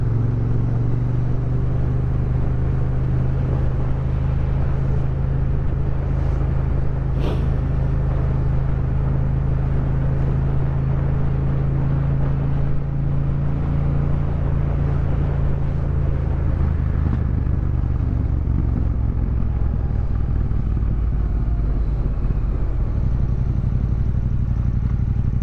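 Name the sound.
motorcycle exhaust while riding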